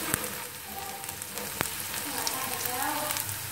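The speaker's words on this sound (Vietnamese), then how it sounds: "Khi hành thơm lên thì mình cho cà chua vào mình xào để tạo màu và tạo mùi thơm" Tomatoes stir-fried with fragrant shallots for a chicken hot pot give a steady, close sizzle and crackle in hot oil, broken by a few sharp utensil clicks, with no talk.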